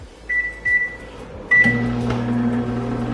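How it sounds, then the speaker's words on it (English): A microwave oven is set for four minutes to heat large russet baking potatoes: two short keypad beeps, a door or panel clunk, then the steady low hum of the running oven carrying on to the end. "So after the 4 minutes is done, I'm gonna open the microwave, I'm gonna flip the potatoes over, do another 4 minutes"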